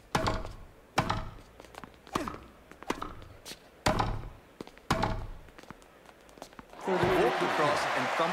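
Tennis balls struck hard in Grand Slam Tennis 2, a series of sharp thumping hits roughly once a second, followed by a swell of crowd noise, with commentary voices underneath.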